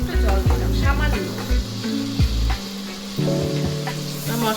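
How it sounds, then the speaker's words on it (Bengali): Spices with Kashmiri chili powder fry in a pan with a splash of water, sizzling loudly and steadily up close, with repeated stirring scrapes and low clunks over the hiss. "ভালো করে কষিয়ে একটু জল দিলাম সামান্য।"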